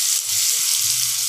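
Green chillies and ginger fry in a pan, making a loud, even sizzle that holds steady and close throughout, with no talking.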